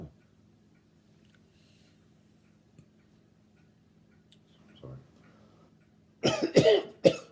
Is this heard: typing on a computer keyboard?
no